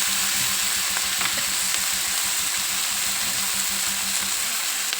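Dried fish is stirred into a plantain curry frying in a pan, producing a loud, unbroken sizzle with light stirring clatter throughout.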